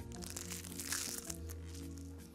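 Someone takes a bite of a crunchy snack, giving a short burst of close crackling crunches that fade within a couple of seconds.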